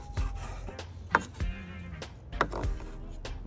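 A kitchen knife dices a potato on a cutting board, making a handful of sharp, irregular chops close up with quiet pauses between them.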